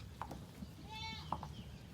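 A goat bleats on a farm kept with sheep and piglets, two or three short nasal cries up close, with someone talking around them and faint farmyard noise behind.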